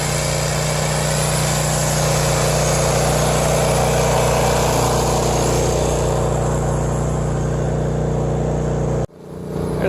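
A snow blower engine runs steadily at close range with a loud, even mechanical drone on a snowy roof, then cuts out abruptly near the end before a faint restart rumble.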